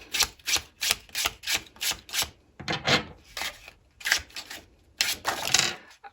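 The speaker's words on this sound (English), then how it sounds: "these cards are so hard to shuffle and to draw from" Rhythmic riffling and slapping of tarot cards being shuffled, repeated bursts in a steady pattern, close and crisp with no talking.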